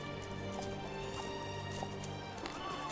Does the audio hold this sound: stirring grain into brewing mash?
no